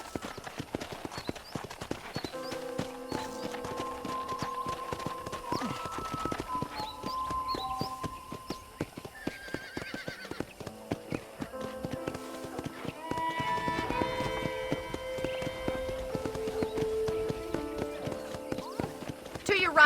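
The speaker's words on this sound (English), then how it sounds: "let's see if you can still ride a horse" Steady clip-clop of horse hooves in Red Dead Redemption, with an occasional whinny and a voice talking over the hoofbeats.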